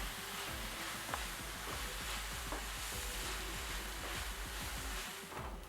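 Onions sizzle in a hot pan as they are stirred toward light brown for a Kerala-style prawn roast, a steady close crackle with a few soft scraping knocks and no voices.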